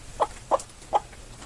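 A broody hen clucks three times in short, evenly spaced bursts, close and clear, with a quiet pause between each cluck.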